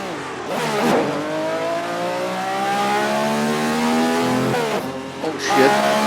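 Loud car engine droning steadily from inside the cabin at high speed, with rising and falling gear tones, a brief lift-off and revving shift near the end, and no talking over it.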